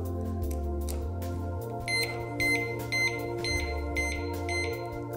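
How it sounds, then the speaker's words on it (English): Abus Trigger Alarm 345/350 disc lock clamped on a brake rotor gives a series of sharp, high electronic arming beeps, evenly spaced and fairly close, over a low steady background hum. "Six beeps will let you know that it's armed"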